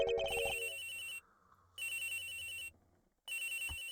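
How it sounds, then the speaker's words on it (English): Cell phone ringtone from the video game Ace Attorney Investigations chiming in repeated bursts separated by brief gaps, loud and clear with no voices. "This has gotta be the victim's cell phone."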